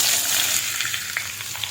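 Green beans are tipped into a pan of frying mustard seeds, producing a loud, dense, continuous sizzle with small crackles and pops, close and with no voices.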